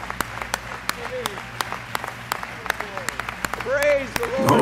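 A church congregation claps in a steady rhythmic beat during a worship service, the sharp claps ringing out over background voices and singing that swell near the end.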